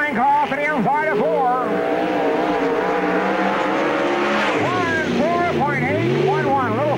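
Billy Drake's 9 race car on a dirt speedway at the summer nationals, engine revving up and down in rising and falling sweeps through the corner, loud and close, with an announcer talking over it.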